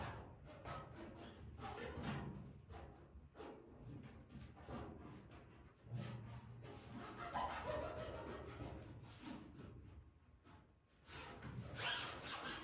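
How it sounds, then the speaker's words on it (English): Rubbing a military marking decal firmly onto a surface, letter by letter, with repeated scratchy strokes and scrapes that come in uneven bursts, fairly close and quiet, with no talk. "You're going to rub that decal really good. And rub each letter really solid."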